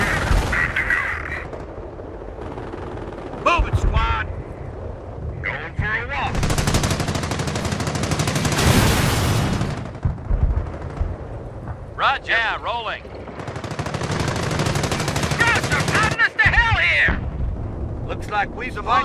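Machine gun fire in Company of Heroes on the Chambois mission, long loud rattling bursts broken by short pauses, with in-game radio voices talking between and over the fire.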